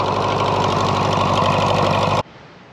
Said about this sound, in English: we're just going to let it idle for a little bit and then we're going to dump the oil